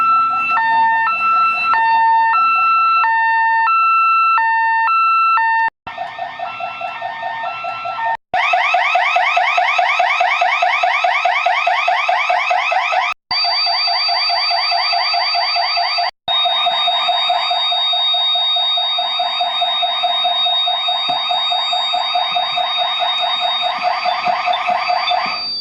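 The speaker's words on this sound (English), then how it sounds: "then we will walk in here and see if we can set the alarm off." A home alarm system siren set off by a motion detector blares indoors, first a stepped electronic beeping pattern, then a loud continuous warbling siren with a few brief cut-outs, steady and close throughout.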